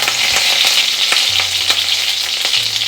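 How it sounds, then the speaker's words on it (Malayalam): Mustard seeds splutter in hot oil for a white lemon pickle. A steady loud sizzle is broken by scattered sharp pops, with a low hum underneath and no talking. "ഇത് ഓയിൽ നന്നായിട്ട് ചൂടായി ഇതിലേക്ക് കടുക് ചേർത്ത് കൊടുക്കാൻ പോയാണ്. കടുക് ഒരല്പം ധാരാളം ചേർക്കാം കേട്ടോ. കടുക് നന്നായിട്ട് പൊട്ടട്ടെ."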